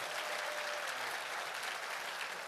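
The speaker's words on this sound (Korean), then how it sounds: "여러분 뜨거운 박수로 한번 쳐주시죠" A large audience gives sustained, even applause at a company's 50th-anniversary vision ceremony, heard from a distance and fairly soft but unbroken for the whole stretch.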